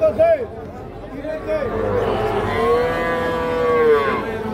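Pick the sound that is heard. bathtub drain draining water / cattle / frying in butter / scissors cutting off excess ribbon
cattle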